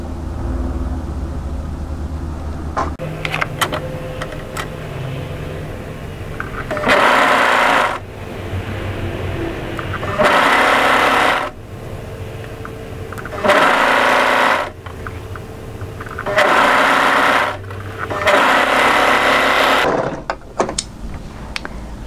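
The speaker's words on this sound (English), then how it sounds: "So when you're ready, overlock those two pieces together." An overlocker sewing machine runs in five short bursts, each a loud rapid whirring lasting about a second, while a turtleneck tunic seam is overlocked. Quiet handling noises fill the pauses between runs.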